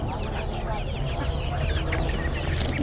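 Many chickens cluck and squawk together at close range over a steady crowd murmur at Peruvallur market, a busy, continuous flock chatter.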